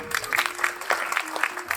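Brief applause from the audience at a Bharatanatyam arrangetram recital, a light scattered patter of hands under a speaking voice.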